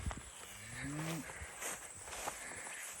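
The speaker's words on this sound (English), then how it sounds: "That's one of the new cows." A cow in a small grazing paddock on a regenerative farm gives a single short, near moo, followed by quiet outdoor ambience with faint footsteps.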